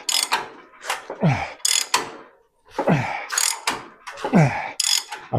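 Ratchet wrench loosening a tight bolt during a fabrication job, giving several bursts of rapid clicking pawl ratchets with short pauses between strokes, close and fairly loud with no talking.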